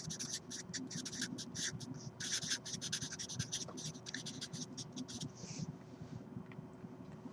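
Chalk or marker scratching across a classroom board during a maths lesson, steady rapid strokes in bursts, moderately close over a low room hum.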